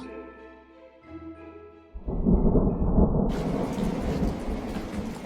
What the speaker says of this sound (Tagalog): Ang lakas ng kulog sa kidlat